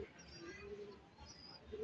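Racing pigeons arriving coo softly in low, throaty murmurs, quiet and somewhat distant, over faint background noise.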